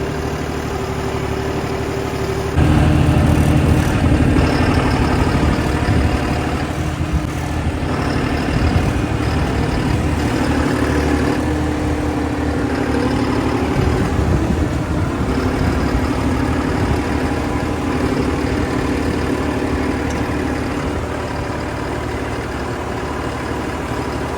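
A tractor engine drones steadily and loudly while ploughing a maize field, a close, unbroken mid-pitched rumble lasting the full stretch without pauses or speech.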